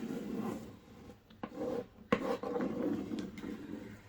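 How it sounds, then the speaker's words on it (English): A scraper tool rubs and scrapes across vinyl in a series of short, faint strokes with small taps and pauses between them, close by in a quiet room. "So I'm just going to scrape that down."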